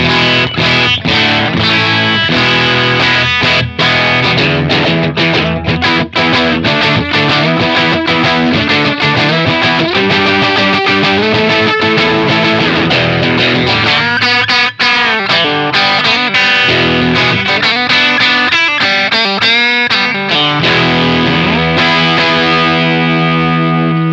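Electric guitar through a Mosky D250X overdrive pedal, a DOD 250 clone, plays loud, continuous riffs and chords, the tone thick and saturated with clipped, gritty distortion throughout.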